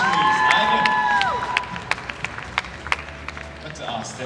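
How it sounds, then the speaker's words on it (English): An audience at the Singapore National Coffee Championship 2025 finals gives a short, scattered round of applause. A speaker's voice is heard around the claps. "A round of applause for Ivan Lim from Coffee Groceries."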